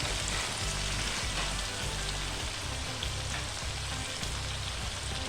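Tomatoes hit hot oil for a kabab biryani, giving a soft, steady, even sizzle with no talking.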